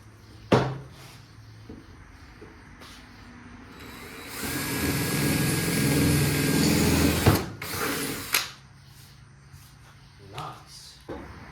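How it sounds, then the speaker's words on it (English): A power drill bores holes, with a steady loud whine for about three seconds, framed by sharp knocks and clunks of handling before and after. "Get to where I want it, start drilling some holes."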